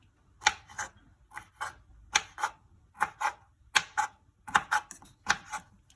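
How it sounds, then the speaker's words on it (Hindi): A knife chops a pineapple into small pieces on a cutting board, with about a dozen crisp, close taps in quick uneven clusters and quiet pauses between them. "पाइनएप्पल को इस तरीके से छोटे छोटे टुकड़ों में काट लें।"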